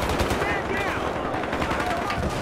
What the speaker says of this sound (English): Okay, somebody's shooting.